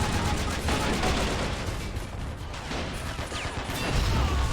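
Dense, continuous gunfire rattles through a Men of War: Assault Squad 2 battle at Stalingrad in World War II. Overlapping bursts and heavy guns blend into a loud, unbroken roar.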